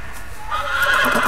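A horse in the Telltale Game of Thrones video game gives a single drawn-out whinny, loud and near, rising and wavering over a brief clip-clop of hooves.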